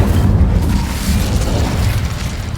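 The Incendio fire spell in Hogwarts Legacy goes off as a loud, dense whoosh and roar of flame. The burst rumbles continuously and fades slightly at the end.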